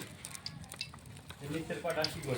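Close, steady hiss and spatter of small fish frying in mustard oil in a wok, seasoned with salt and turmeric, with scraping stirs and light utensil clatter; the sizzle swells louder toward the end.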